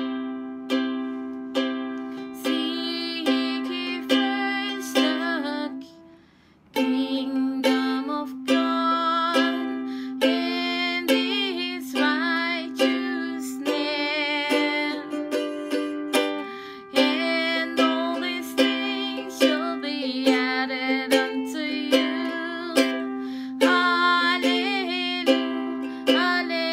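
A soprano ukulele strummed and picked in a lively, continuous melody with bright plucked chords, close and clear, playing alone with one short pause midway.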